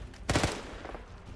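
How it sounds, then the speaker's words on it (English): Mounted machine gun fires a short rapid burst in a Minecraft war map battle, loud and close, followed by a fading rumble. "I got other unmanned mounted machine guns."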